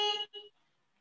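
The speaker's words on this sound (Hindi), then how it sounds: "कौन है हॉर्न मार रहा है यार?" Car horn sounding outside, two short honks in quick succession, the first longer than the second, then quiet.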